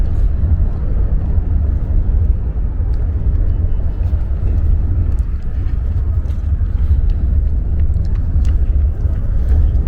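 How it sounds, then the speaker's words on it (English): A New York City ferry coming in beneath a bridge in Astoria, Queens, heard as a steady, loud low engine rumble with broadband water and wind noise throughout, no speech. "Got a New York City ferry coming in."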